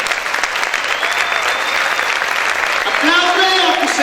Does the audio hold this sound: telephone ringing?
no